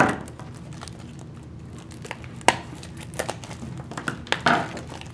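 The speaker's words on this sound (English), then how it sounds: "Glad we have our handy dandy scissors with us." Scissors snipping and crinkling through plastic toy packaging, a series of close, irregular sharp cuts and rustles at low volume.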